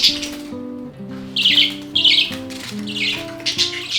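A flock of budgies in a big garden aviary squawks and chatters in repeated bright bursts, loud and close, over a sustained layered musical tone underneath.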